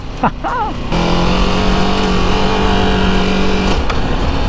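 A Ducati DesertX adventure motorcycle engine runs under a rider, settling into a loud, steady drone after a short burst at the start, with wind rush throughout.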